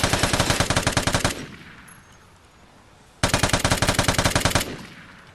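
A light machine gun fires in the video game Vigor in two long, rapid sustained bursts separated by a short pause with a fading tail, loud and close, with no talk.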